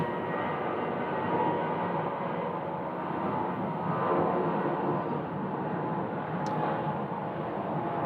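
A Southwest airliner takes off from runway 25 right at Phoenix airport, producing a broad, steady jet roar heard from a distance that swells slightly in the middle and holds throughout.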